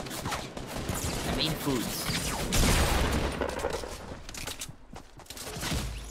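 Gunfire rattles in Fortnite as volleys of shots come in over game noise, steady and fairly close, while a player talks through it.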